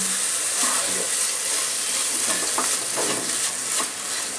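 Chhana, fresh cheese curds for kachagolla sweets, frying in a pan over high heat, a loud close sizzle that never lets up, with scraping and stirring strokes repeating throughout.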